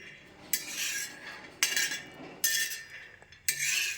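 Peanuts dry-roasting in a pan on a low flame, stirred in four distinct bursts of bright rattling scrapes and clinks with quieter pauses between, close and moderately loud.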